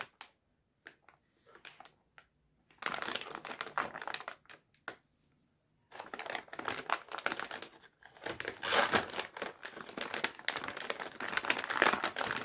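An ASRock Z590M PRO4 motherboard's anti-static packaging bag crinkles in bursts of dry, close crackling, with a few scattered taps early on, then longer rustling stretches after brief pauses.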